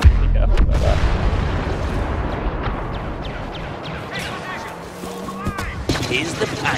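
Gunfire and explosions in Star Wars Battlefront, on the Bespin map, with a rocket launcher in play: a loud opening boom, then steady battle noise with scattered shots and blasts.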